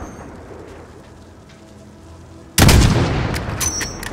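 A single loud sniper rifle shot in Call of Duty: Modern Warfare, a sudden sharp blast after quiet game ambience, followed by a rumbling tail that slowly fades.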